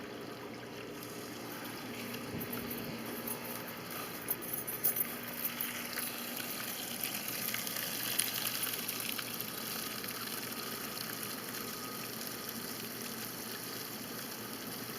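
Gray water drains in a steady trickling rush from the open tank valves of a 1994 Ford E-350 Millennium RV, a constant low wash with a faint engine-like hum beneath it.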